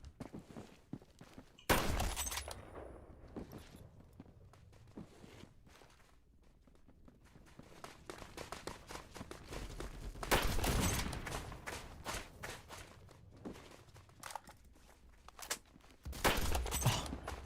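Guns fire in the sci-fi mining shooter Deep Rock Galactic in a few short loud bursts, spaced apart, with footsteps and small clatter between them.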